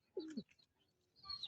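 A pigeon coos at a loft, one short low throaty coo near the start, then quieter faint bird calls trailing after, no talking.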